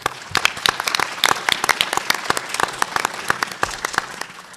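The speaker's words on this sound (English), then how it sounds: "So let's give him a round of applause." An audience at a gun violence round table meeting breaks into applause: crisp, close claps from a modest crowd, steady throughout and fairly loud.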